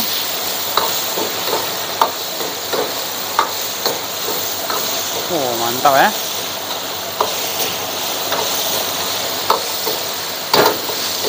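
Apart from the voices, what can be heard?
stir-frying chili in oil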